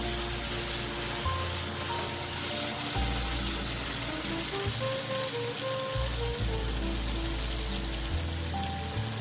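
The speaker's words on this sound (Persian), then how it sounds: "پیاز ما خوب سرخ شده حال نوبت میرسه برای رومی ما که همچنان اضافه میکنیم" Onions and tomatoes sizzle steadily while frying in a pot for Afghan chickpea rice, a continuous crackling hiss that stays fairly loud throughout, with a low hum underneath.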